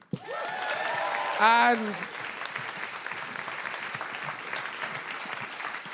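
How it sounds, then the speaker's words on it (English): Studio audience at an Edinburgh Fringe comedy radio show applauding the guests, a sustained steady clapping that follows a short spoken word and continues evenly to the end. "Can we have a big round of applause for everyone?"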